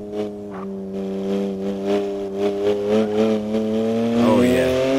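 Widebody BMW M4 engine revving and accelerating hard in the Assetto Corsa racing game, a rising strained engine note with gear changes, loud and close, under someone talking.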